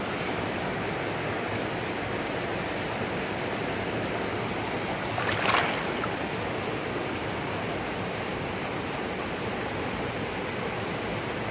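River water rushes and churns steadily around a whirlpool, a continuous broad roar of flowing water with a brief splashy surge midway, no voices.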